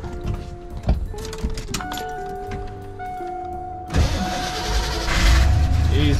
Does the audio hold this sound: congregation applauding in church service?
no